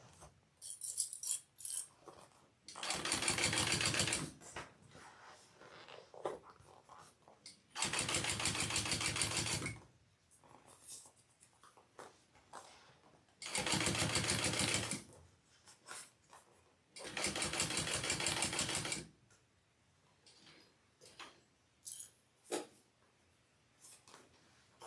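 Sewing machine stitching through several bag layers with foam, running in four steady whirring bursts of a few seconds each, separated by quieter pauses filled with small handling noises.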